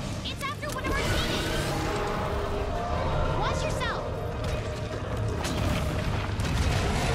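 Rapid gunfire from a bow-gun aquashot build in Monster Hunter World: Iceborne, aimed at Safi'jiiva's head, with dense continuous booming, mechanical clatter and roaring over loud game effects throughout.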